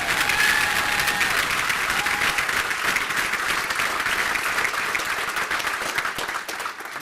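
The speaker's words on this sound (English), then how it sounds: "remember the rules, clap after each one stands." Sustained applause from a banquet crowd at a senior athletic awards dinner, dense and loud from the start, slowly thinning toward the end.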